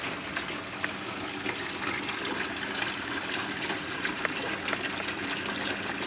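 Water pouring steadily into the bottom tank of an aquaponics system during a siphon test, a continuous broadband gushing and splashing with no pauses.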